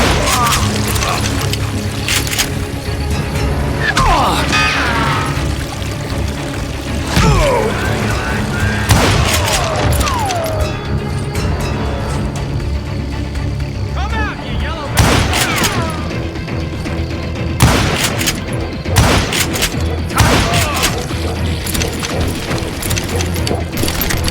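Gunfire fills a Call of Juarez Gunslinger shootout, with repeated loud shots and booms scattered across a dense, noisy mix and voices shouting over the action.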